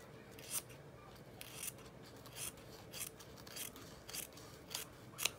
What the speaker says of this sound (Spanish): volteamos para cortar el excedente del listón sólido